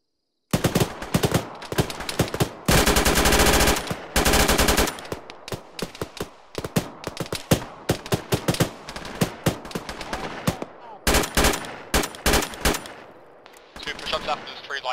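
Machine-gun fire in the combat game ArmA erupts in long sustained bursts and shorter rattling volleys, loud and close, with gaps between strings of shots.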